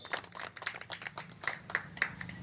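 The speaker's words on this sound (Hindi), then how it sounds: "उनकी मोहब्बत जोरदार तालियों से स्वागत" An audience at a speaking event claps to welcome a speaker, a loose ripple of individual hand claps that sounds fairly close and moderately loud, with no talking over it.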